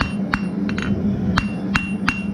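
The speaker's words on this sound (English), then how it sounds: "I angle my hammer down and work the point" A hammer forges the point of a metal hook, its face angled down onto the workpiece, with about six sharp, ringing strikes at an uneven pace over a steady background hum.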